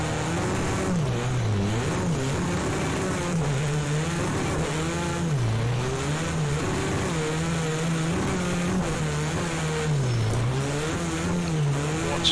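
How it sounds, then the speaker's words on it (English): A rallycross car engine in Project CARS 2 roars continuously, its pitch rising and dipping as it revs up and shifts through gears, loud and close. "These cars sound absolutely mental."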